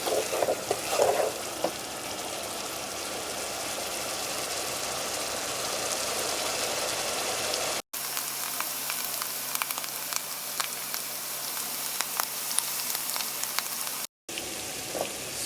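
A spiced curry base for meatball curry sizzles steadily in a pan as it is slowly stirred, a continuous close frying hiss broken by brief cuts, with occasional scraping and clinks.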